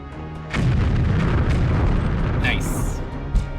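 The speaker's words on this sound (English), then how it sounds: "Ah, there are the grenades." Grenades explode in a video game as a sudden deep boom, followed by a sustained rumble and a few sharper bursts. A voice talks over it.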